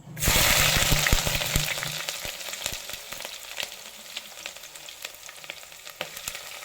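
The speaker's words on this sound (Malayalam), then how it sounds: "ഇനി നമുക്ക് ഇതിലേക്ക് ആദ്യം ഇട്ട് കൊടുക്കാനുള്ളത് ഈ ഇഞ്ചി വെളുത്തുള്ളിയും കൂടി അരിഞ്ഞത്" Chopped ginger and garlic hit hot oil for a Kerala fish curry, a sharp loud sizzle that settles into a steady frying crackle with light stirring taps.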